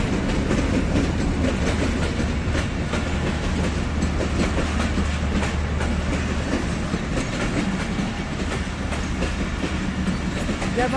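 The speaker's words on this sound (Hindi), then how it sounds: "ये देखें जी ट्रेन है और ये आ रही है रावलपिंडी से" A long train coming from Rawalpindi rumbles past along the railway line, a loud, continuous roar with steady clickety-clack from the wheels for the whole stretch.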